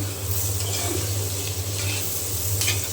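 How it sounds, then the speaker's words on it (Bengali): Fried radish and cauliflower stems with coriander leaves are stirred in a pan, a soft close sizzle under a steady low hum, with a few scraping strokes of the spoon. "নাড়াচাড়া করে তারপরে নেড়ে চেড়ে নামিয়ে নেব"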